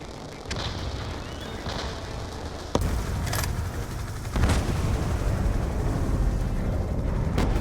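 Heavy explosions from an airstrike destroying a ship in Call of Duty Black Ops 2 land as sharp blasts, then roll into a dense, rumbling roar that grows louder and stays thick to the end.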